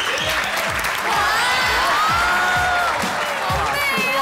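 An audience claps and cheers as a model walks out in a self-designed gown on a variety show, dense steady applause with whoops, while several voices talk and exclaim over it.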